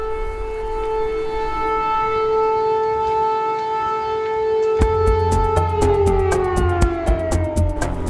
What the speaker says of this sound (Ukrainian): Ця сирена на п'ятому під'їзді держпрому це нове звучання Харкова.